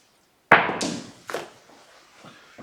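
Craps dice hit a table with a sharp clatter, then bounce and tumble in a few quick knocks before settling, close and fairly loud, with no talk.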